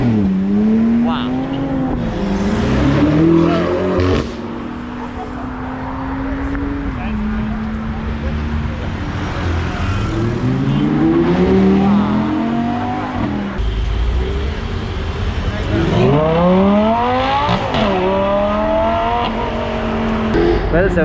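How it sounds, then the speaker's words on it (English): Supercars from a Republic Day convoy accelerate hard and roar past on the road toward Mapro, Lonavala, engines rising through rapid gear shifts in repeated loud passes, with people talking over the noise. "several supercars are just blasting by from this place to Mapro, Lonawala"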